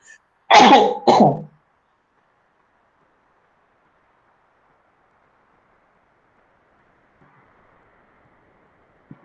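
Two throaty coughs, clearing the throat, close to the microphone, followed by near silence.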